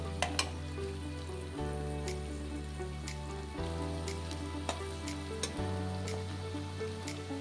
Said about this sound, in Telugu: ఈ ఉల్లిపాయలు కూడా ఎర్రగా వచ్చేంత వరకు మగ్గబెట్టుకున్నాం.